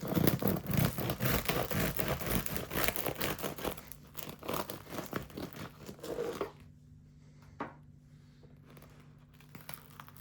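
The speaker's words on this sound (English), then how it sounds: "Let's cut into it and see what we got inside" A knife saws through the crisp crust of a low hydration sourdough loaf, giving loud, close crackling and crunching strokes for several seconds before fading to quieter scraping and near silence.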